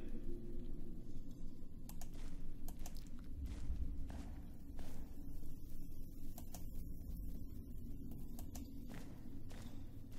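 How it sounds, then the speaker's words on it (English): Slow footsteps on stone in a dim medieval church crypt, a series of soft, irregular steps and light thuds at moderate distance over a low ambient hum. "Oh no, those are just my footsteps."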